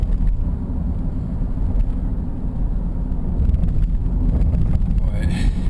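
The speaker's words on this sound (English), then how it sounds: "But it is windy." Steady, heavy low rumble and buffeting from wind striking a microphone outdoors on a windy day, continuous and loud throughout with no clear pauses.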